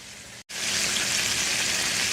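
Chicken pieces shallow-fry in a cast iron pan, not deep-fried, with a dense, even sizzle and crackle close by that drops out briefly near the start, then returns loud and continuous.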